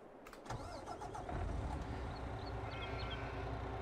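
A farm vehicle engine in Landwirtschafts-Simulator 22 cranks briefly and catches, then settles into a steady, fairly quiet rumbling idle, heard alone.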